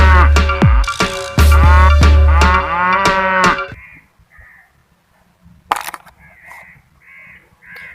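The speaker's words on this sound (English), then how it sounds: "This is cow. Frisian cow is used for milk in all over world." A Friesian cow moos loudly and close by in several drawn-out, strongly voiced calls, followed by a short quiet stretch and a few fainter, higher calls.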